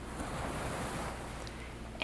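Ocean waves at a sandy shore wash in a steady, soft roar with faint wind in the microphone, distant and continuous, no voices.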